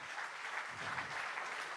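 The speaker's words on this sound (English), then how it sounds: "Round of applause." Applause from an audience at an engineering quiz event, a steady, fairly faint wash of clapping hands with no break.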